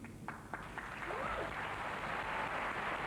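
At the 1980 Academy Awards ceremony, a few scattered claps at the start swell into steady audience applause that fills the hall and stays broad and continuous.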